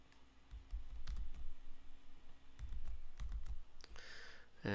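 Keyboard keys clatter in short bursts of quick taps while working Excel shortcuts, close and fairly quiet, with brief pauses between clusters and a sharper click near the end.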